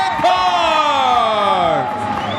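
A race crowd at Attica Raceway Park, an Ohio speedway, cheers loudly with whoops and shouts, a dense roar that swells and sustains throughout.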